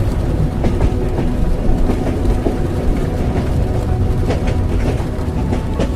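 Swiss train travelling through snowy countryside, heard from inside the carriage as a steady rumble with rhythmic clickety-clack from the rails.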